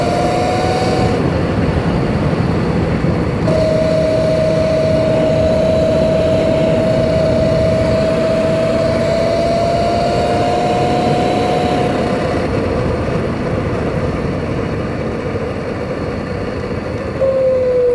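A Sur-Ron electric dirt bike's drivetrain whirs steadily and loudly up close, with a sustained tonal whine that shifts pitch slightly, heard without speech.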